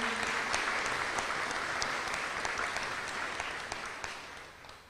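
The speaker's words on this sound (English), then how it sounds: "let's clap for them" Audience at a high school awards ceremony claps steadily, a dense wash of many hands with a few sharper individual claps, continuing throughout and tapering slightly toward the end.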